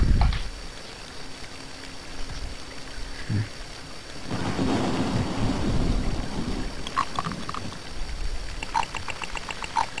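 Rain and rolling thunder in the survival game Robinson's Requiem form a steady wash of rain, with a deep thunder swell in the middle and light clinking patters later, and nobody talking.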